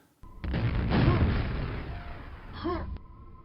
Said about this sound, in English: A quad damage grenade? A grenade plus a rocket?